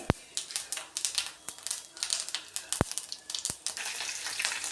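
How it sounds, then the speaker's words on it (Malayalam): Fenugreek and cumin seeds splutter and crackle in hot oil while sambar is being made: dense, rapid popping and sizzling, close and continuous, with sharper isolated pops standing out every second or so. "ഇനി നമുക്ക് കാൽ സ്പൂൺ ഉലുവ ഇട്ട് കൊടുക്കാം പച്ചുലുവ ഉലുവയും കൂടെ പൊട്ടട്ടെ"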